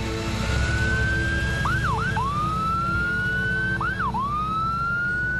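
An ambulance siren wails steadily at close range, its long rising tone broken twice by quick yelping sweeps, over a low background rumble with no voices.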